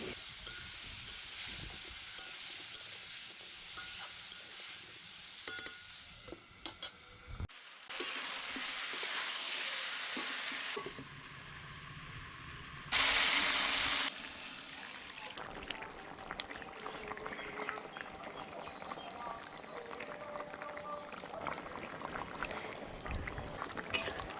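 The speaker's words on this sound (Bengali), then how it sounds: "ওই জন্য একটু জল ঢেলে দিলাম না হলে ভাজতে গেলে পুড়ে যাচ্ছে" Vegetables fry in a pan after a splash of water is poured in, giving a loud, steady sizzling hiss that swells in bursts and then settles into a continuous crackle, with no voices.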